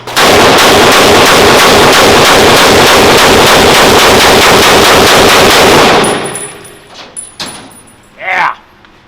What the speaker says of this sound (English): this is the HCAR. It's semi-auto, so we're going to do a full auto, but I'm going to give you some good trigger squeezes